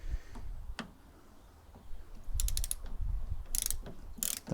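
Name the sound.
screw being undone on Toyota Yaris door card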